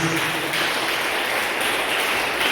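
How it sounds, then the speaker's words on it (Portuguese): A church congregation gives a joyful round of applause for Jesus, a dense, continuous roar of many hands clapping at steady loudness throughout. "Dê uma salva de palmas bem alegre para Jesus"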